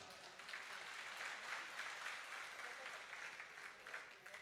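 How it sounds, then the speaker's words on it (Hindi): An audience at a Hindi poetry recital claps steadily in a sustained round of applause, a dense, even crowd sound heard from some distance at low level. "ताली बजाओ।"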